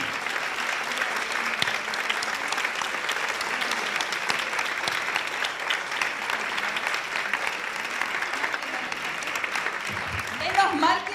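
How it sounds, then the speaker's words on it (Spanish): An audience at a book presentation applauds in a steady, sustained wash of clapping that lasts throughout, with a few voices faintly audible beneath it near the end. "Menos mal que no me tomo los aplausos en serio, ¿no?"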